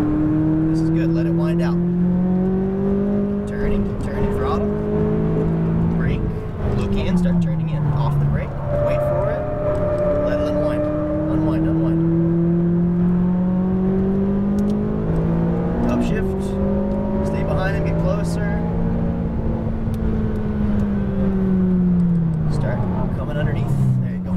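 A McLaren 570S sports car accelerating hard on a race track, its engine droning loud and steady with rising and falling revs through the corners, while a driving coach talks over it.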